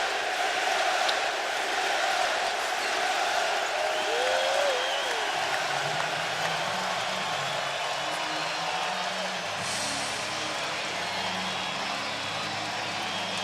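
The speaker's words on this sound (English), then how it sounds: "the Celtic fans cheering on their team with a 14-point lead now" Boston Celtics fans roar in a packed basketball arena during the 2008 Championship Game 6 against the Lakers, a dense, sustained wall of crowd noise that stays loud throughout.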